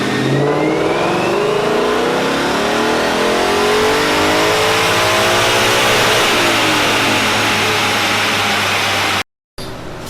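Tuned Mustang engine on a dyno, revving loudly in one long climbing pull that rises steadily in pitch to a peak, then drops off sharply before settling back toward idle.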